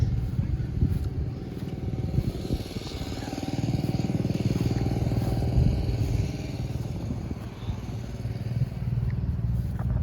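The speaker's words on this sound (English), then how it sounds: "But there's a pair of nice McCormick Deere engines there" A pair of McCormick Deering engines run at an outdoor steam show, giving a steady, loud mechanical chugging and clatter over a continuous low rumble, with other machinery and distant crowd noise around.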